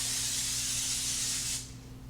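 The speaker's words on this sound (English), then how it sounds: "Just going to spray it" Cooking spray sprayed into a 9 by 13 baking dish: a steady, close hiss lasting about a second and a half, then cutting off into quiet room tone.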